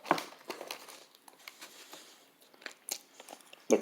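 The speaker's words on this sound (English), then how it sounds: "The crunch of water chestnuts is there." Crisp crunching bites into a vegan burger with crunchy water chestnuts, a series of close, sharp crackles and chews spread irregularly, with a louder crunch at the very start and end and no talking.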